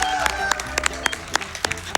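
Scattered claps from a small audience at a video game speedrunning marathon, uneven and fairly close, with a steady murmur of room noise beneath.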